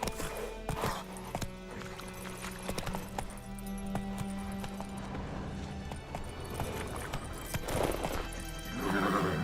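Roach, the horse in The Witcher 3, whinnies loudly over a steady run of galloping hooves, with a second neigh near the end and clattering game sounds throughout.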